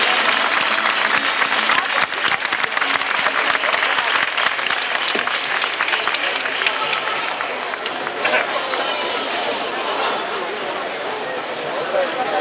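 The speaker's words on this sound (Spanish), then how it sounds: "con sus aplausos a recibir ya a nuestros bailadores" Large audience applauding to welcome Aragonese folk dancers, singers and a rondalla string band, a loud, sustained roar of clapping mixed with crowd noise and voices that carries on and eases slightly near the end.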